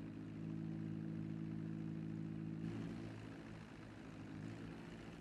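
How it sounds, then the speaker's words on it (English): A propeller plane's engine hums steadily in GTA V, a loud, even in-flight drone with a strong low tonal whine that shifts pitch slightly partway through, heard alone without talking. "I guess there's limitless, really, uses for a plane like this"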